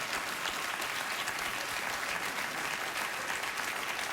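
A late-night TV studio audience applauds, a steady dense wash of clapping that holds at even loudness with no one speaking over it.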